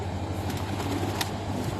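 Game pigeons coo softly in a loft in Antalya, low repeated calls layered over a steady background hum with no voices present.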